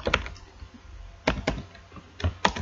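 Typing on a computer keyboard, a few close, crisp keystroke clicks arriving in small irregular clusters with quiet gaps between them.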